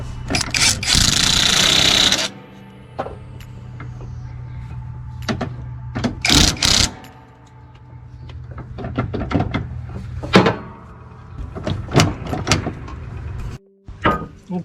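A power tool on a low setting whirs in short bursts, tightening a nut on a riding mower, starting and stopping several times over a low background hum.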